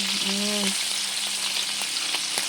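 Dried fish (bulad) fries in hot oil with a loud, continuous close sizzle and crackle, a brief tonal squeak rising over it early on and a few sharper pops later.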